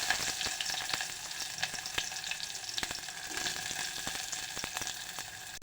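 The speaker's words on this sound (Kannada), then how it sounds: "ಸ್ವಲ್ಪ ಜೀರಿಗೆ, ಅವೆಲ್ಲ ಚಟಪಟ ಅಂದ ಮ್ಯಾಗ ರೀ ಈಗ ಉಳ್ಳಾಗಡ್ಡಿ ಹಾಕ್ತೀನಿ ನೋಡ್ರಿ." Onion tossed into hot oil with crackling cumin seeds in a pan, a continuous quiet hiss of frying with scattered sharp pops and light stirring clicks, heard alone without any voices.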